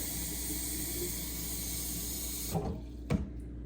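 Water runs steadily from a kitchen tap into a measuring cup for bread dough, a continuous hiss that cuts off, followed by a couple of short knocks.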